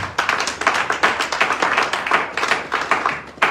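A church congregation at a worship service claps and cheers for the Lord, a dense, continuous burst of overlapping hand claps and voices filling the room, loud and close throughout.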